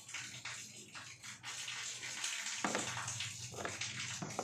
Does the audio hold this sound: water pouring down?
yes